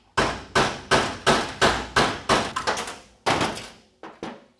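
Repeated heavy hammer blows knocking out a metal clad seal during 700R4 automatic transmission disassembly, about a dozen sharp ringing strikes in a steady rhythm, close and loud, with a short pause before the last few.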